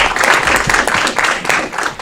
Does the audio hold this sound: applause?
yes